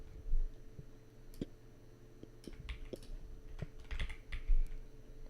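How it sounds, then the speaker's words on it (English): Typing on a computer keyboard while coding game monetization features: bursts of quick, close keystrokes with a few heavier taps, running steadily for several seconds. "I'm like triple typing right now."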